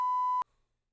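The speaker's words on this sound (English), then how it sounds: "So I can hold this down, and when I do, you're gonna hear a beep." GO-XLR bleep censor, a single clean steady tone lasting under half a second that cuts off sharply, leaving near silence.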